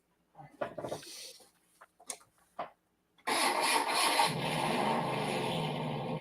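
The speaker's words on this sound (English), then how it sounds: "You hear the sound? Yeah. It's the engine running" A remote-controlled scale model vehicle with a smoke feature: a few short sputters and bursts, then its engine sound starts up and runs loud and steady to the end, with no talk.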